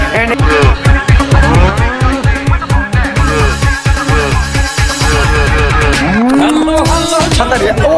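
Cows moo repeatedly amid a busy din at Gabtoli cattle market, with a long rising low moo near the end over constant crowd noise.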